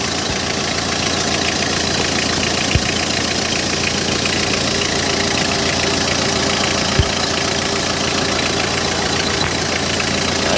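A 2004 Hyundai Porter diesel truck with a manual gearbox idles steadily up close, giving a continuous, even rumble with faint knocking texture and two brief clicks. No one speaks.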